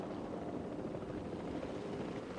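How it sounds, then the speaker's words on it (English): A helicopter in the video game Jurassic World Evolution 2 flies with a steady, broadband rotor whir and rush, faint and unchanging, with no voices. "And now I'm safely in the helicopter"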